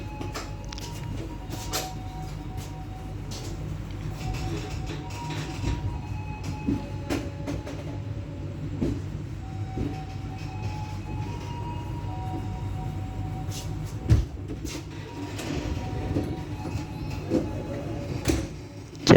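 KA Tawang Jaya train pulling out of Semarang Poncol station at night, a steady loud rumble of wheels and carriage noise with faint rail clicks and occasional knocks throughout.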